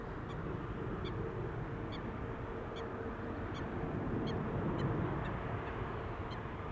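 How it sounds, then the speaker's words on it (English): A bird gives a series of short, duck-like quacking calls, evenly spaced and moderately faint, over the steady hum and rumble of aircraft activity at Amsterdam Schiphol Airport. "I hear a bird."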